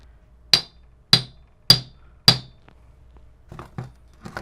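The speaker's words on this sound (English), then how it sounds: "So now we can tap that with the hammer." A hammer taps four times at an even pace to seat a U-joint into a Jeep Wrangler TJ front driveshaft, each strike a sharp close metallic knock, then quieter clinks from handling the parts.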